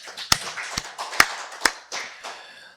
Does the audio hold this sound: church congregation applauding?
yes